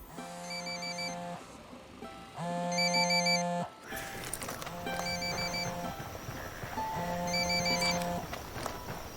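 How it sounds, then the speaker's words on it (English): A mobile phone rings in the Ghost Recon video game, its electronic ringtone repeating in four distinct bursts with short pauses, set against faint background ambience and some movement noise. "Phone. That's no IED. It's ringing too much."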